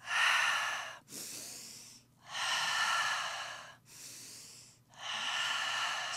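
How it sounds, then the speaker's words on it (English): Pilates breathing during a posture exercise: five loud, close breaths alternate between long forceful exhales and shorter inhales in a slow, even rhythm, with no talking. "It's the breathing. This is the Pilates breathing."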